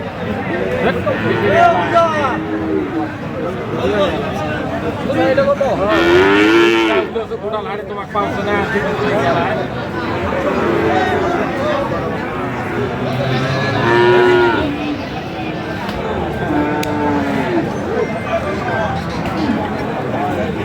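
Friesian bull calves at a livestock market in Dinajpur low mooing repeatedly, several calls spread across the stretch, mixed with a busy crowd and ongoing talk and bargaining nearby.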